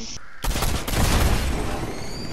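Gunfire in a video game: a sudden dense burst of rapid shots that keeps roaring loudly and continuously to the end.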